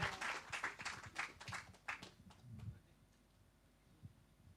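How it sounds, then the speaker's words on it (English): Brief applause from a tech summit audience for an award nominee: a short burst of individual claps, sparse and fairly faint, fading out after about three seconds into quiet with a stray tap. "Let's give a round of applause for Nadia."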